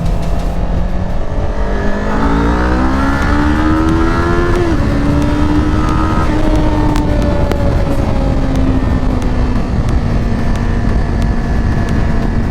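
A Qjmotor Race 450 motorcycle accelerating hard in second gear inside a tunnel, its engine note climbing steadily, loud and close with strong echo, then shifting and pulling again.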